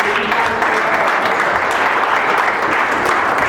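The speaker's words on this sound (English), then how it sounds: "Let's give a round of applause for the real heroes." A live concert audience breaks into loud, dense applause, a steady wash of many hands clapping close by throughout.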